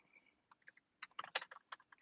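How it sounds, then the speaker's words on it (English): Quick bursts of keystrokes on a computer keyboard while a tweet is typed, irregular taps clustering into short runs, close and fairly quiet, with no talking. "I'm just typing this tweet in case anybody is over here."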